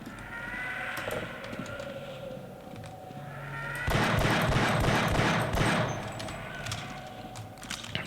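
Gunfire in the Half-Life video game as a full magazine is emptied, a dense burst of rapid shots from about four to six seconds, preceded by quieter game ambience and a brief lower hum.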